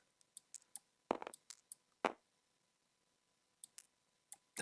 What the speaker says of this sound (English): I should grab some dice for this.